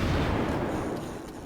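Rumbling, booming naval gunfire from an enemy Cleveland cruiser in World of Warships, a continuous heavy low roar that stays loud throughout with no talk over it.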